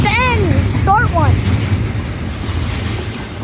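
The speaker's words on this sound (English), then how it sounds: "we do got trains that come through here" A freight train rolls past nearby with a continuous low rumble and rattling wheel noise throughout, while a high squealing or whistling sound and speech-like voices come and go over it early on.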